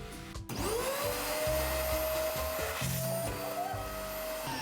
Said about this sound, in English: why don't I just have a designated vacuum for the bathroom?